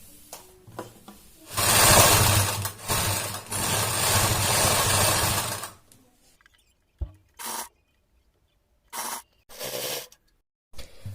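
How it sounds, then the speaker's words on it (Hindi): A domestic sewing machine stitches down a folded fabric bra strap. A loud, steady motor run lasts about four seconds, then several short stop-start bursts follow, close up with no talking. "मार्जिन को अंदर की तरफ दबाते हुए अब इसके ऊपर हम सिलाई लगाते जाएंगे"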